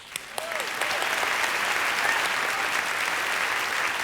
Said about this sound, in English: applause for the filmmaker